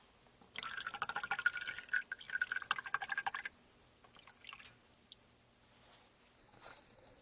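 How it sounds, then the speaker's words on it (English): Hydrogen peroxide is poured into a jar to mix a knife-etching solution, a close trickling, gurgling pour for about three seconds, then a few faint drips and handling sounds, with no talking. "now we're going to fill our jar the rest of the way up with our hydrogen peroxide"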